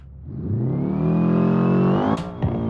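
A racing video game car engine revs up steadily before a launch, rising in pitch for about two seconds before easing off, with a couple of brief clicks near the end.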